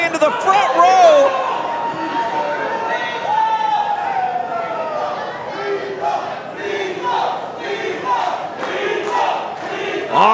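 A wrestling crowd at a championship match roars and shouts steadily throughout, dense and loud with swelling cheers and voices blending into one continuous wall of noise.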